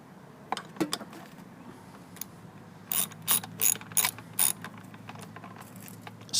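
A half-inch drive ratchet turns a bolt on a 2011 Toro Recycler mower, giving a few scattered clicks and then several quick bursts of rapid ratcheting, close and fairly quiet.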